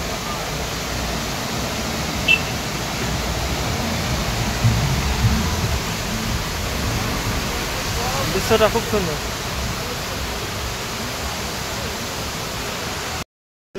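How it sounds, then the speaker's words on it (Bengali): A waterfall beside Sevoke Road near Siliguri gives off a steady, even rushing roar with no gaps. A person speaks briefly over it. "এই ঝর্ণাটা দেখতে খুব সুন্দর"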